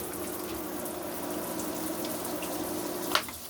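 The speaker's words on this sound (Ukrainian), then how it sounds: "І пішла вода." Running water flows steadily from a tap, a continuous hiss with a faint click near the end.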